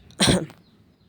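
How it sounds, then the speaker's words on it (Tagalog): A single short, explosive cough, close and loud, lasting about a third of a second before fading. "Ubo moments."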